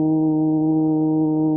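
A human voice imitates a foghorn, a low, steady vibrating hum from the chest held evenly for over a second and then cut off.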